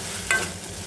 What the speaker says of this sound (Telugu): ఇలా ఆయిల్ అంతా సపరేట్ అయ్యేంత వరకు మనం ఫ్రై చేసుకోవాలన్నమాట.